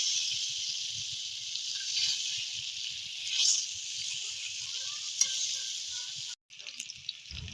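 Fish rubbed with turmeric, salt and chili fries in a pan, a steady bright sizzle close up with faint stirring, cut by a short gap near the end.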